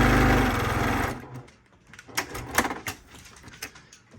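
A sewing machine stitching quilt fabric along a marked line, a loud, fast, steady buzzing run that stops after about a second, followed by faint clicks and handling noises.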